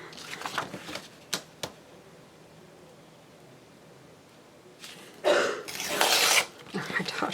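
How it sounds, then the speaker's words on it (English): A daughter with a cold coughs in a quiet room, a few short sharp coughs early and a louder burst of coughing near the end, with light rustling in between. "My daughter's coughing now from that cold she got."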